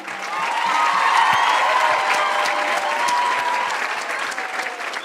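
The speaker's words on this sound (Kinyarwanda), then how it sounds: "Nimunyemerere twongere amashyi aba alumni bashya" Sustained applause from a graduation audience greeting new alumni at a school ceremony, a dense steady clapping that holds for several seconds before thinning slightly toward the end.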